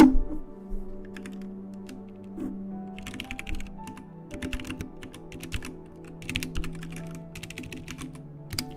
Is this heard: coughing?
no